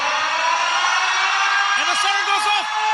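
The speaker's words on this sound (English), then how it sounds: "And the siren goes off." Stadium siren sounding at the end of a Samoa vs Fiji rugby league test match, a sustained loud wail over crowd noise and commentary.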